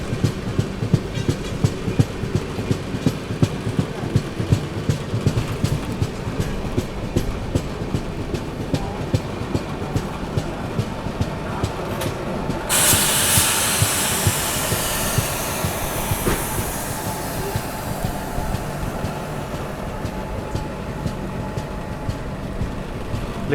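Grand Trunk Express pulling into Amla Junction, steady rolling rumble and wheel clatter from inside the train, with a sudden hiss of air midway that slowly fades as it slows.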